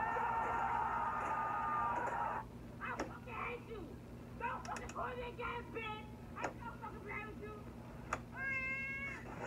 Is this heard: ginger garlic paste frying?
no